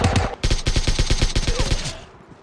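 Rapid automatic M4 rifle fire in a zombie survival shooter game, a steady burst of about a dozen close, loud shots over two seconds, then a short decaying tail.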